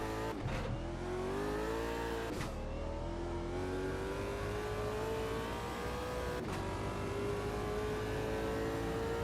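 Shelby GT500 V8 in the Automobilista 2 racing game, revving hard with rising engine pitch through gear changes, sharp breaks at each shift, continuous and loud throughout.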